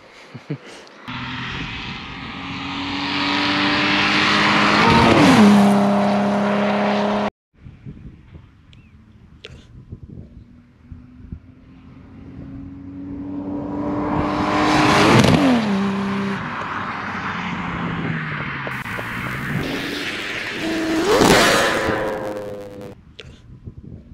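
A loud BMW E30 engine with a programmable engine management system revs hard through the gears nearby, the pitch climbing and then cutting off sharply with a popping stutter at each shift as the ignition cuts.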